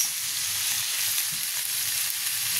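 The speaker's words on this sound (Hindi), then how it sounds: "बरो प्रॉन्स, ऑनियन, रेशियाद मसाला बरो फ्राय जाला" Bitter gourd frying with prawns, onion and masala, a continuous even sizzle heard close up with no talking.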